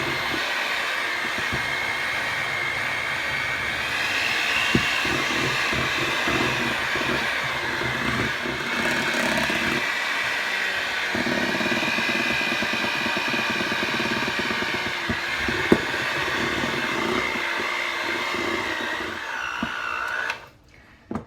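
An electric mixer beats powdered sugar into cream cheese frosting with a steady, continuous motor whir that holds for about twenty seconds before cutting off abruptly at the end.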